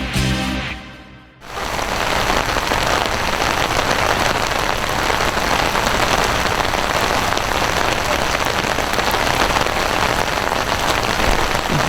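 Rain falling outdoors in a hometown street setting, a dense, even hiss of drops on surfaces that starts after a brief quieter moment and continues loud and unbroken.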